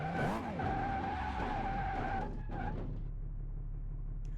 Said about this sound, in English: It's like wheel spin central up in here.